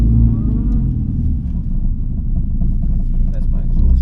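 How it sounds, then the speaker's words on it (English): Exhaust of a modified Ford Figo on a racetrack, a low, steady rumble running close and loud throughout with slight surges. "Yes, that is my exhaust."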